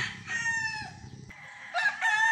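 Boston Roundhead gamefowl rooster crowing on a game farm, two clear cock-a-doodle-doo calls with a short pause between, fairly near and alone without talk.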